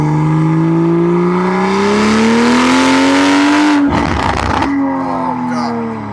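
BMW M340i with the B58 engine revving while driving, a loud close engine note climbing steadily in pitch, a brief gap as a shift cuts the sound, then the revs resume and settle lower.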